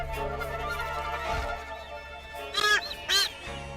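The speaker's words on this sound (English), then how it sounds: "They are vampire finches." Vampire finches give two short, harsh, buzzy calls close together near the end, over a steady low hum of background ambience.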